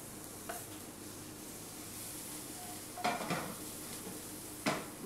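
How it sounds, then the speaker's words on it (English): Onion and garlic sizzling and browning in a pan, a soft steady hiss broken by a few sharp scraping stirs of a utensil against the pan, close by, with no talking. "I can see the browning of the onion and garlic combination"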